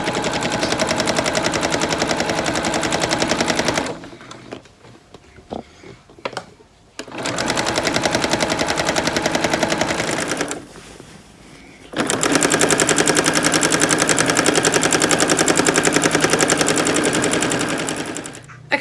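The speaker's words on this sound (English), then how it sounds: "let's start sewing this" A sewing machine stitches a bag in long, loud, rapid bursts, with two quieter pauses of scattered handling sounds between the runs.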